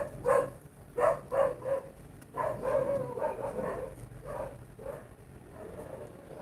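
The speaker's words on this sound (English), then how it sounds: "So the dogs now are very active." Dogs bark in short bursts, several yaps close together, then pause and start again at moderate volume. No one is speaking.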